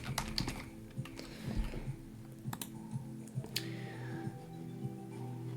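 Username being typed on the keyboard of an Acer TravelMate 2600 laptop, close, quiet clicking keystrokes in short irregular bursts over a faint low hum.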